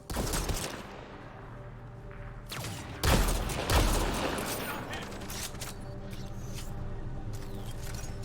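Gunfire crackles through a Mass Effect Andromeda firefight: bursts of shots early, then two heavy blasts mid-fight followed by sustained rapid fire, with voices calling out amid the combat.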